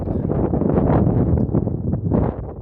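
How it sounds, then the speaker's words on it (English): Strong wind gusts roar across an open grassy hillside during deer season in Pennsylvania, a loud continuous buffeting rumble on the microphone that swells and eases without a break. "Look at this wind."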